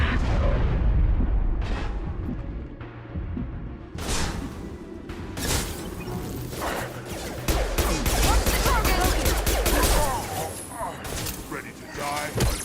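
Heavy gunfire and explosive blasts in the sci-fi shooter Mass Effect 2, sustained and loud throughout with dense bursts and booming impacts, with a voice speaking under the battle noise.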